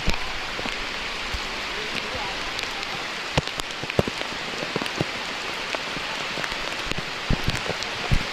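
Steady rain falls on a steep hillside path on the way to a waterfall, a dense close hiss with scattered sharp drops pattering throughout and no pause.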